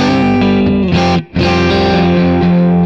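An electric guitar with heavy distortion plays a slow blues-rock lick with sustained bent notes, a brief break, then more held tones, loud and upfront with no voices.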